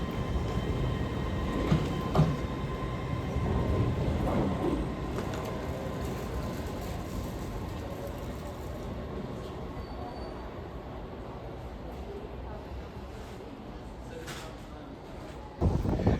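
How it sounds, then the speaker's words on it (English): An LNER passenger train, unit 801212 bound for Edinburgh Waverley, passes through Durham station with a steady, broad rolling rumble that holds for the whole stretch and swells briefly near the end. "And now is the LNER service after Edinburgh Waverley, 801212."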